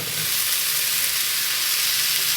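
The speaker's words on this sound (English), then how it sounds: "Make sure I throw it on the pan." Ground meat for sloppy joe burgers sizzles loudly and steadily in a pan turned up to high heat, a dense continuous frying hiss with no talking.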